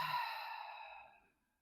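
A single deep, breathy exhale during a stretching exercise, close and soft, fading out smoothly over about a second.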